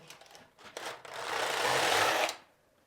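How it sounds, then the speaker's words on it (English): A Passap Duomatic 80 knitting machine knits one row as the carriage makes a smooth, loud whirring sweep lasting about a second and a half, with brief lighter rattles before it and quiet afterwards. "Stitch size 4 3/4, knit 1 row,"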